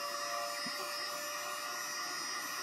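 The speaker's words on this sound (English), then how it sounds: "Using hair dryer, you might want to do it on medium setting." A hair dryer on its low setting blows steadily to heat shrink wrap around a battery cell, a constant whirring hiss with a faint hum, fairly quiet and unbroken.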